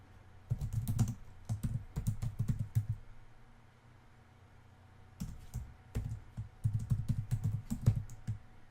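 Fast typing on a computer keyboard in two bursts of rapid close key clatter, split by a short pause of quiet room tone.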